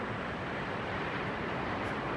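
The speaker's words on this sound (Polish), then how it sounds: "ocean jest dość spokojny dzisiaj" Calm ocean surf washes steadily at a surfing beach, an even, constant roar of distant waves with no talking.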